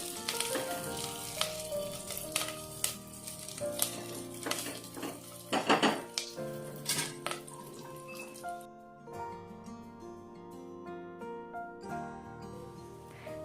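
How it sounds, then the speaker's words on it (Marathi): Bay leaf, onion, ginger and garlic sauté in ghee inside a pressure cooker, a quiet frying sizzle broken by scattered utensil clinks and scrapes against the metal, while soft music plays underneath. "कुकरमध्ये एक ते दीड चमचे साजूक तूप घेऊन त्यात तमालपत्र कांदा आलं लसूण घालून छान परतून घेऊयात"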